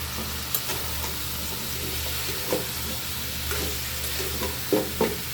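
Bitter gourd and drumstick curry sautéed in oil, with a steady close sizzle and occasional scraping stir strokes, no voices.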